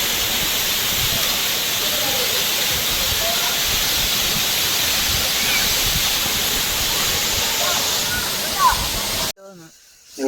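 A waterfall in Wayanad roars with a dense, steady rush of falling water, loud and continuous, cutting out abruptly near the end.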